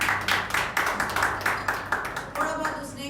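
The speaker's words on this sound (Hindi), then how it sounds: "अरुण के लिए तालियां।" A church congregation at a Sunday service claps in rhythmic unison, about four crisp, evenly spaced claps per second, fairly close and loud.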